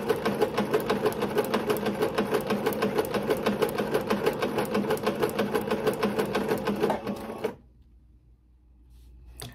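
A sewing machine stitches the top part of a ruffle tutu sock in one steady, rapid, rhythmic run, close and clear, stopping abruptly near the end and leaving near silence.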